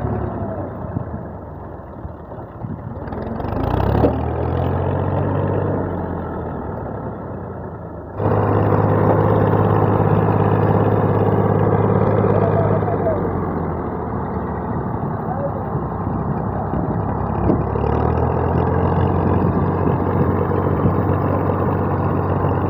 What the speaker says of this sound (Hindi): अबू जान ने रेस पर पैर रखा और ट्रैक्टर को निकाल लिया।